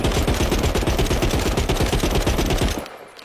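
Video-game gunfire fired from the hip: a loud, rapid burst of shots in tight succession lasting nearly three seconds, then cutting off abruptly.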